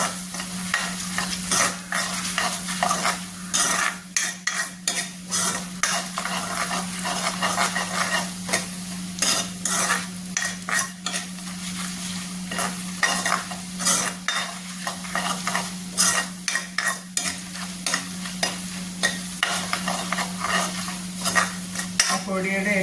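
Onion and beetroot pickle with Kashmiri chili powder being stirred in a hot pan, a spoon scraping and clinking in an irregular rhythm over a steady low sizzle of frying, close and fairly loud, with no talking.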